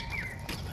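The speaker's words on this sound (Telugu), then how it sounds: "పిట్టలు ఒకటే సౌండ్స్ చేస్తున్నాయి పైన." Birds chirp briefly overhead at a zoo in Hyderabad, a short thin call standing out over steady outdoor background noise.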